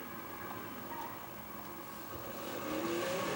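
A vehicle in the video game Borderlands 2 drives along with a steady engine drone that swells and revs toward the end, moderately close, with no talk over it.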